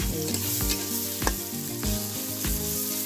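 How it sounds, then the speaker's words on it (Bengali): Onion and garlic frying in a pan for a fish and cauliflower curry, starting to scorch as they are stirred: a loud, continuous sizzle with repeated spatula scrapes every half second or so. "পেঁয়াজ দিয়ে একটু নাড়াচাড়া দিই। পুড়ে যাচ্ছে"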